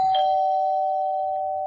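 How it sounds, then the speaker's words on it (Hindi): A doorbell chime rings once, a clear sustained electronic tone that holds steady and fades slowly, heard alone. "10 मिनट के बाद जब डोरबेल बजी"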